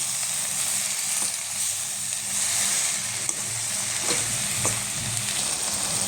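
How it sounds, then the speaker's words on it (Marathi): Amaranth greens (ambadi bhaji) being stirred in a pan give a steady frying sizzle with soft scraping strokes and a few light clicks of the spoon, close and alone. "पूर्ण भाजी घालून घेतलेली आहे आणि बघा छान अशी मिक्स करून घ्यायची"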